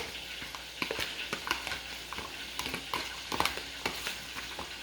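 Lemongrass being stirred into a lobster roll mixture gives soft, scattered scraping and clicking strokes, quiet and irregular, with no voices.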